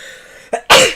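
A single close, loud sneeze bursts out after a short indrawn breath, with no talking in the moment.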